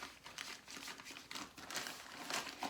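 A plastic baggie of dry pottery glaze being massaged by hand, giving close, soft crinkling and rustling in uneven bursts, with no voice over it.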